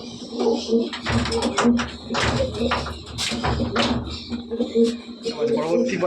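KTM Teddy pigeons coo softly in a loft, their low repeated murmurs partly buried under steady close-up talking and some tapping.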